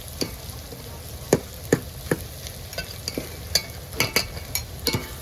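Red chili being stirred in a pan of hot oil with garlic and turmeric for a crab dish, a steady frying sizzle broken by repeated sharp scrapes of a spoon against the pan.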